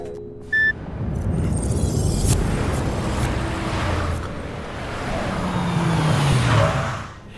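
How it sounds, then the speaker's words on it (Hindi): A car drives along a road in India with steady engine and tyre rumble, a short electronic beep near the start, and the noise easing off as it comes to a stop at the end. "ये गाड़ी क्यों रोक दी?"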